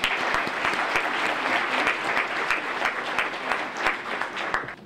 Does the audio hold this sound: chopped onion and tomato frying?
no